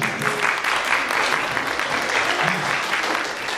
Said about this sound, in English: It's always a pleasure to hear clapping